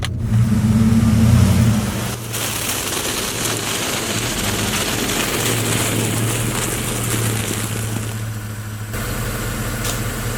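A truck engine labors and revs loudly up close while off-roading on a rocky forest trail, the drone holding steady for several seconds with a heavier surge at the start and no speech.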